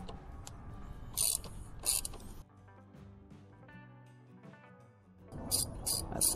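A ratchet wrench loosens a frame-slider bolt on a 2019 Husqvarna Svartpilen 401 motorcycle, giving close bursts of quick mechanical clicking separated by a quieter pause.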